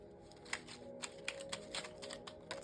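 Soft, quick riffling and tapping of cards being shuffled, a faint series of short clicks close by with no talking.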